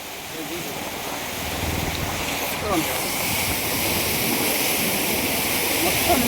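Floodwater rushes through city streets and past a guest house in Guntur after heavy rain: a steady, broadband roar of moving water that swells slightly and carries on without a break.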